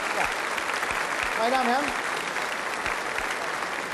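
A studio audience at a 1981 German television variety show applauds in continuous, dense clapping, while a host speaks over the applause.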